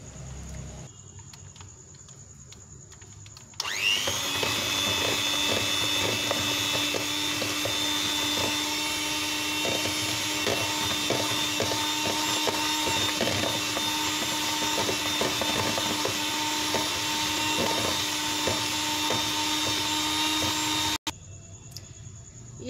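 An electric hand mixer fitted with a single beater whips ghee in a bowl, its loud, steady motor whir kicking in after a few seconds of quiet and running continuously before cutting off near the end.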